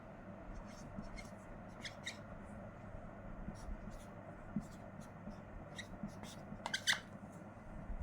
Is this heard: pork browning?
no